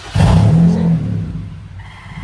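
A Honda Civic FD engine gives a short, close rev that jumps up quickly, holds briefly, then drops back to a low idle rumble.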